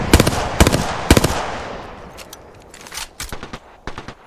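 Enemy gunfire in the Apex Legends video game: rapid bursts of automatic shots, loud and close at first, then thinner, more distant volleys trailing off across the remaining seconds.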